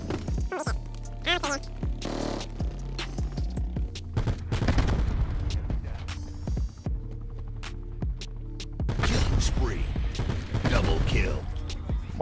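Rapid automatic gunfire from a weapon in a first-person shooter video game crackles in repeated bursts over a droning hum, while a person talks throughout.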